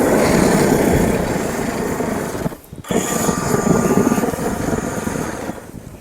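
A flamethrower burning race gas gives a loud, steady roaring whoosh that briefly drops out partway through, then surges back and keeps going with no talking.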